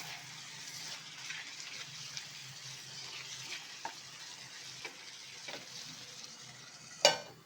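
Prawn fry sizzles quietly in oil in a pan as it is stirred, a soft steady crackle with faint scraping strokes and a sharp clink near the end.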